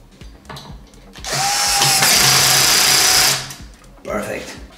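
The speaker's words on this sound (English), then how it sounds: "Now let's have some screws for the heatsink." A power screwdriver drives screws into a TDA7293 amplifier heatsink, a steady two-second whine that rises and holds, then stops abruptly, with quieter workshop noises before and after.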